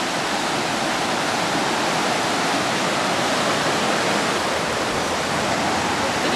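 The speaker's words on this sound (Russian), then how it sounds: "какая река быстрая" A fast-flowing river in the Bosnian countryside near Mostar and Blagaj gives a steady, loud, broadband rush that continues without a break from start to finish.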